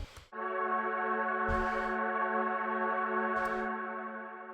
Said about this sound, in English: Initially, with no effects, the pad sounded like this.